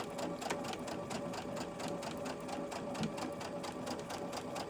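A sewing machine with a size 12 needle stitches fabric pieces for star square quilt blocks, a steady fast rhythmic whir of needle strokes running continuously at close range with no talk over it.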